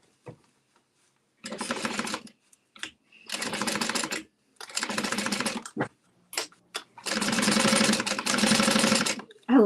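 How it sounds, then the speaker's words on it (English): A sewing machine runs in several fast bursts of straight stitching, each a second or two long and separated by quiet pauses. The final long run is the loudest and steadiest. Nobody speaks. "I love sewing straightaways."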